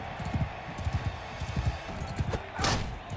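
Galloping horse hooves in the video game Mount & Blade: Bannerlord, a fast steady clip-clop rhythm up close, with a brief louder swishing burst near the end and no talk.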